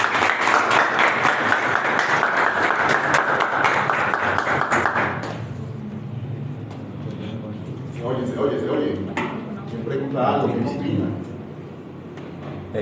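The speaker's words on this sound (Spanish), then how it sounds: "Extraordinario, un aplauso." An audience at a live talk on crypto economics gives a strong round of applause for about five seconds, then it fades and someone speaks over scattered lingering claps.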